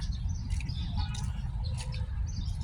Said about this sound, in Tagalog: Anong daming ibon dito